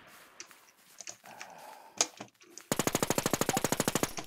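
Rapid automatic gunfire in a multiplayer zombie survival shooter game, a steady burst of evenly spaced loud shots lasting over a second, preceded by scattered softer impacts and shuffling noises.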